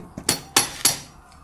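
A hammer strikes three times in quick succession during a roadside fix on an NMAX V3 scooter, sharp broadband knocks with short ringing tails, fairly close.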